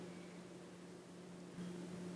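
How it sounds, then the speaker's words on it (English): A microwave oven runs at high power while heating a milk kova mixture, giving a steady low electrical hum with a constant tone that shifts slightly partway through. No one speaks. "Now I have put it again inside the microwave for 2 minutes at high power."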